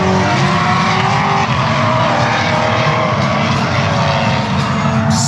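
A drift car on a race track at night, loud and close, with its engine roaring and revving continuously over a dense wash of noise.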